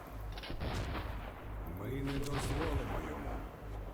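Pistol shots fired in the shooter game Metro 2033 Redux, several sharp broadband bangs spread over a few seconds amid dense game noise, with a voice talking underneath.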